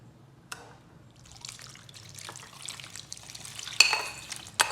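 Tempering spices in oil are stirred into brinjal chutney, giving soft wet squelches and scraping that build gradually, with a couple of sharp utensil clicks near the end.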